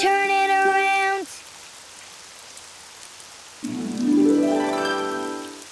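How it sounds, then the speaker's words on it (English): Rain in the Daniel Tiger's Neighborhood children's game, a steady soft patter running beneath bright harmonic game tones at the start and a rising musical sweep near the end. "It's raining outside."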